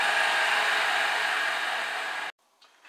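A centre drill bores the first hole in wood on a locked drilling machine during a corner bench seat repair, giving a steady, even whir that cuts off abruptly near the end, followed by faint quiet handling noise.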